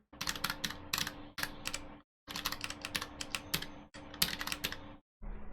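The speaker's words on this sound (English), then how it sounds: "we've typed out all of the declarations that we need" Fast typing on a computer keyboard while entering C code, dense bursts of close, crisp key clicks separated by short silent pauses.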